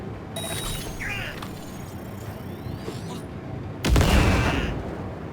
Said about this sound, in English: Let's do a detonate grenade.